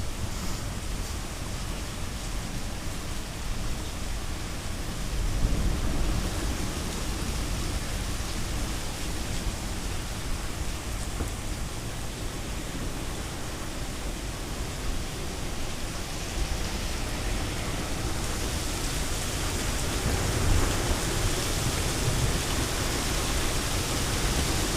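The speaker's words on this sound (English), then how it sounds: "Lots of heavy rain." Heavy rain from a severe thunderstorm pours down as a steady, dense hiss, loud and unbroken for the whole stretch with no voices over it.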